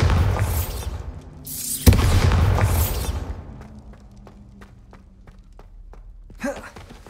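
A Bombarda blast spell in Hogwarts Legacy goes off as a loud booming burst with a sharp thump near the two-second mark, then fades into quieter scattered clicks and a final softer impact.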